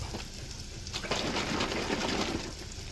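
Egg white poured into a buttered pan sizzles and fries with a steady, close hiss that swells and thickens about a second in, continuing without talk.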